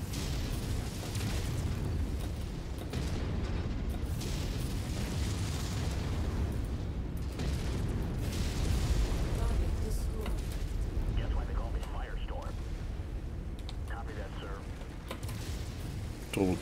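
Weapon fire in the MechWarrior 5 video game, dense booming blasts and bursts rolling continuously under ongoing game noise, fairly loud and close.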